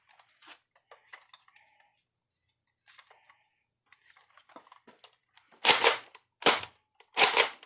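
A Nerf Elite 2.0 Shockwave RD-15 blaster fires AccuStrike darts, first quiet clicks and mechanism rattles, then three loud, sharp close shots spaced under a second apart.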